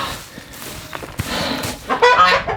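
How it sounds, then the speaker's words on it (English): A homestead guard goose honks nearby, giving a few short calls over about two and a half seconds that rise to a louder, harsher burst near the end, with no talking. "This goose"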